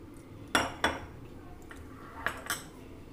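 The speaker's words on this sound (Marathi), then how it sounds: "सगळ्यात आधी आपल्याला असं एखादं भांडं घ्यायचं आहे" A metal pot and spoon are handled while making bhel, giving a few sharp clinks and clanks in two quick pairs against a quiet kitchen background.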